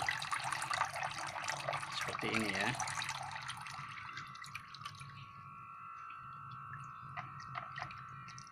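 Water poured onto the soil of a potted Monstera adansonii, a steady close splashing and trickling for the first few seconds, then quieter while a person speaks.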